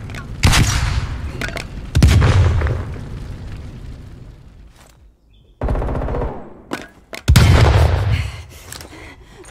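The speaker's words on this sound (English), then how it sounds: "Using flashbang." A flashbang grenade in a Call of Duty Cold War multiplayer match, heard as loud, booming blasts mixed with bursts of close gunfire and short quieter gaps.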